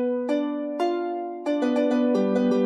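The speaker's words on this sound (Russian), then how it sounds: "Да, действительно, октавы, это звучит так," Plucked gusli sample played in octaves from a Kontakt library, with a bright doubled tone like a 12-string guitar; a few ringing notes, then a quicker run of repeated plucks, close and clear with no voices.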